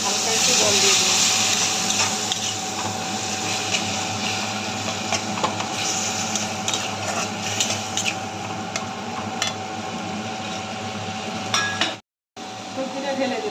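Bengali-style mixed vegetable masala sizzles in a pan after a little water is added, a steady, close hiss running continuously with faint stirring scrapes underneath and a brief break near the end.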